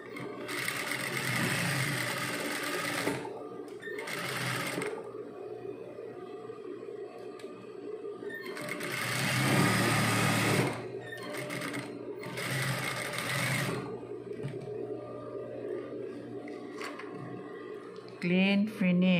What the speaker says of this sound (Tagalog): clean finish ang tawag dito.